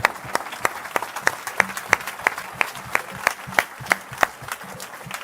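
Rhythmic, evenly spaced claps ring out one after another at a church service, a single steady clapping pattern standing out sharply over a quiet room.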